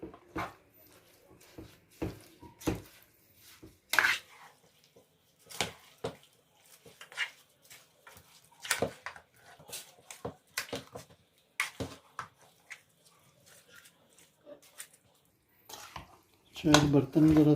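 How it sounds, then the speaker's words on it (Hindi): A spoon scrapes and clinks against a slightly small pot while yogurt is worked into a mutton biryani marinade, giving irregular taps and knocks throughout, with a person talking in places. "अब इसको हम अच्छी तरह से मिक्स करेंगे।"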